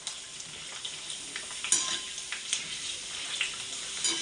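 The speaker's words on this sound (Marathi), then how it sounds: "चला आता पुऱ्या तळून घेऊया आपण पटपट" Puris deep-frying in hot oil for pani puri, a steady close sizzle with soft crackling bursts and occasional scraping stirs, no voices.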